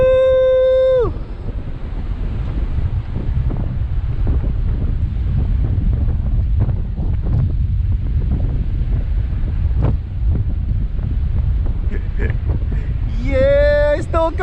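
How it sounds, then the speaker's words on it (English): Hurricane Dorian's wind roars loud and steady in constant gusty buffeting against the microphone, with a person shouting briefly at the start and again near the end. "This is a hurricane wind."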